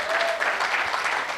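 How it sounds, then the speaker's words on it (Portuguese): Congregation applauding inside a church during a sermon, a dense, steady wash of clapping that fills the whole moment without a break; a faint tone briefly rises beneath it near the start. "Pode aplaudir a Jesus."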